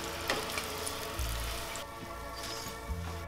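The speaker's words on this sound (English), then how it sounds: "Now we're gonna fry our sardines." Breaded sardines frying in hot oil, a steady close hiss and crackle with occasional soft pops, moderate in level for a few seconds.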